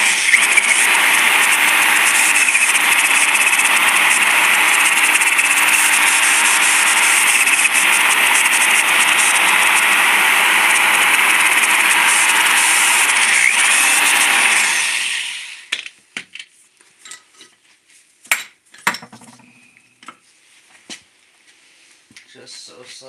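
A drill with a step bit bores through metal in one loud, steady whine that lasts about fifteen seconds, then stops abruptly and gives way to scattered clicks and handling knocks.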